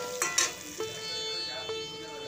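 Cauliflower florets and potato pieces fry in hot oil in a pan, giving a steady sizzle with a few sharp clatters of a spatula stirring near the start, no voices.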